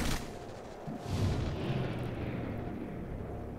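Gunfire in XCOM Chimera Squad: a heavy shot opens the clip, followed by a booming rumble that swells and fades into a low, sustained roar.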